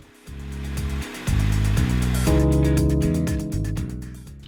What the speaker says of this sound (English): I reverse the blade on the jigsaw and mount it in a slot on the workbench